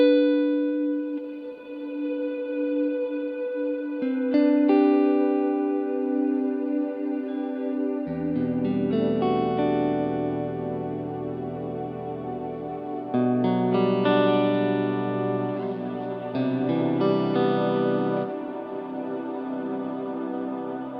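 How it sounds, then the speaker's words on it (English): Electric guitar run through reverb effects on a Kemper profiling amp, sustained chords and notes blooming into lush, lingering reverb tails, played alone with no talking. "one quick example there of like what I think are some really, really great reverbs"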